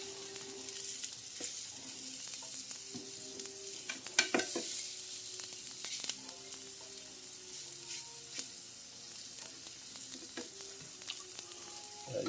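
Cauliflower-crusted Cajun chicken pieces fry in a hot pan with a steady, close sizzle, broken by a few louder clatters and bumps as the pieces are flipped over midway; no talking.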